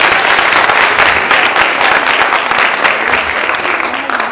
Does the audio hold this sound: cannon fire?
no